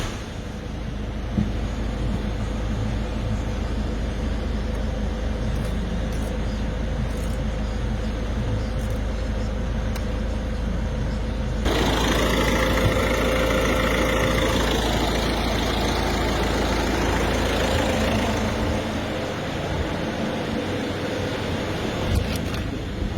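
A Peugeot 308 HDi diesel engine runs steadily as the car is driven out, a low continuous rumble that grows rougher and busier partway through.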